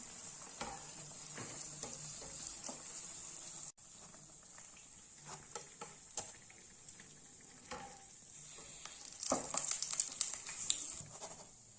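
Malpua sweet pancakes fry in hot oil, two at a time, giving a faint continuous sizzle with occasional clicks and stirring scrapes that grow busier toward the end, without speech.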